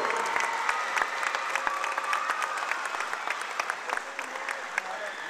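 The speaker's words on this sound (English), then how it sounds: "a nice round of applause to the Norton Lancers and head coach, Mark Liberatore." A crowd at a high school football game applauds during a trophy presentation, with sustained, dense clapping and individual sharp claps standing out over a distant crowd murmur.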